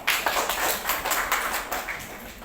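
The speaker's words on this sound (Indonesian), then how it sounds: "Tepuk tangan dong." Scattered group clapping in a classroom during a teacher's coaching session, a few uneven bursts of hand claps at moderate loudness, fairly close.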